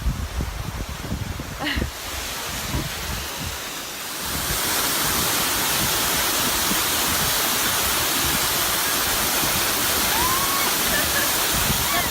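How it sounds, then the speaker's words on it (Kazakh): Ayuly waterfall in the Turgen mountains roars as a steady, loud rush of falling water that swells after a few seconds and then holds constant, with faint voices early on. "Онда аюлы деп аталады екен сарқырама."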